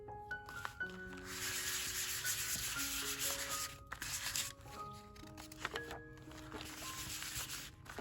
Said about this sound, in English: anything that has a little bit of shine to it, I am gonna try to do the sandpaper